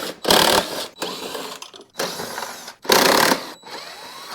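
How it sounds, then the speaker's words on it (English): A 3/8 socket ratchet backing out bolts from the drive assembly of an Ariens Razor mower, in short bursts of fast clicking, close and moderately loud, with brief gaps between them. "we're gonna remove the retaining bolts holding in this whole drive assembly"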